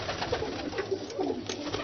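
Ali wale breed pigeons coo softly in a cage in Lahore, a steady layered murmur of several birds close by with a few brief higher notes.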